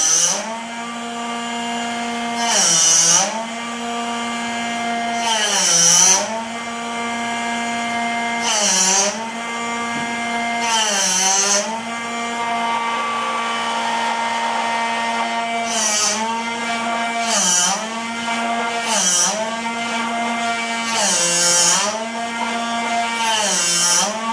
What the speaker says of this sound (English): Make sure when you're drilling on the lathe is that your tailstock is in line with your headstock